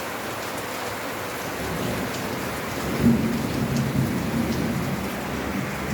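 Steady rain falling outdoors, a constant dense hiss of drops on surfaces, moderately loud and unbroken, with a low rumble swelling faintly midway.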